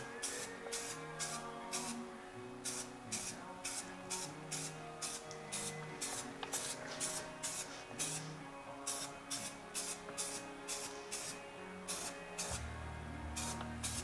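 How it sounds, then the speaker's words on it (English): Rapid, repeated short hisses of flat black spray paint from an aerosol can, pulsing in a steady rhythm over faint background music while coating a Jeep JK fender. "less is always more with spray paint"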